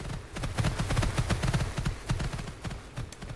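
Horse hooves clip-clop at a steady walking pace in the Star Stable video game, an American Mustang moving with a clear, even rhythm throughout.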